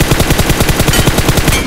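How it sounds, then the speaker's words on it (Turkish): Rapid automatic gunfire from a video game shooter, a steady loud burst of closely spaced shots repeating in an even rhythm for under two seconds. "Kanka tepede durmuş, sıkıyorlar"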